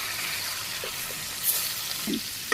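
Snakehead fish frying in hot oil in a pan, a steady soft sizzle with a few light scraping clicks as the pieces are flipped, near and fairly quiet with no talk.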